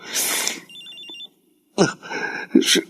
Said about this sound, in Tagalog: Si Max, tumatawag sa cellphone ko.